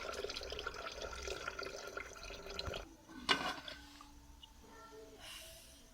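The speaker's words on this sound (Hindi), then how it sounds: "अब पानी मैं इधर निकाल रही हूँ चावल में से, क्योंकि पानी अभी निकाला नहीं था।" Water is poured off boiled rice into a sink, a continuous splashing flow that stops midway, followed by a few drips and a faint tap in a quiet kitchen.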